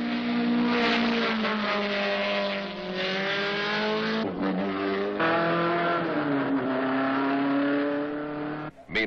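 Several race cars, among them a Datsun and an Alfa, roar past together at full throttle, engines loud and sustained with shifting pitch as they accelerate and change gear, no voices.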